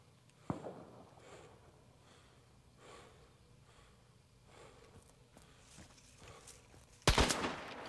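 Gunfire in the Hunt: Showdown video game: a sharp single shot near the start, scattered faint thuds and movement, then a loud close burst of shots at the end.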